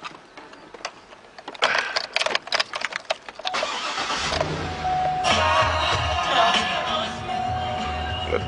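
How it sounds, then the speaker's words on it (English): A Mercedes S63 AMG engine cranks with a few sharp bursts, then catches and settles into a steady, loud idle nearby. "let me start the engine."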